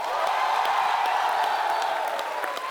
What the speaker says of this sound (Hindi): तो आप सबकी जोरदार तालियों के बीच स्वागत करना चाहूंगा फिल्म बेगम जान की टीम।